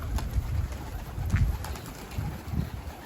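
Pigeons cooing softly at a coop in the morning, a few low murmuring calls over quiet outdoor background noise with no talking.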